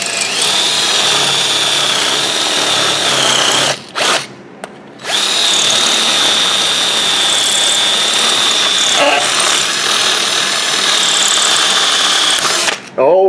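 A power drill whines loudly and steadily while whittling out the speed sensor on a Hyundai Accent. It runs long and close, stops for about two seconds in the middle, starts again, then cuts off near the end.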